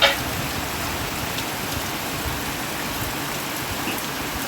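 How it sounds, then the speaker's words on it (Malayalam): Heavy rain falls steadily as a dense, continuous hiss of drops on surfaces, fairly loud and even, with no voices. "ഭയങ്കര മഴയാണ് ഇന്ന് ഒടുക്കത്തെ മഴ."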